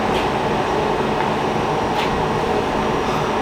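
A steady, even hum of train station noise on a rainy day, low mechanical drone with faint airy hiss and a couple of soft distant clinks, no voices.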